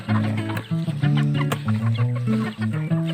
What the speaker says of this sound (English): So this is my chickens of Sir Dexter's Full Chicken.